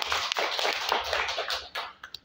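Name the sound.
applause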